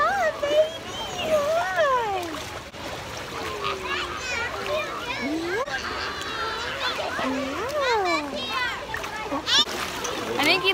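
A baby splashes in the water on a first trip to a swimming pool, with light splashes scattered through the scene under the near, continuous talk of adults and the cooing of the child.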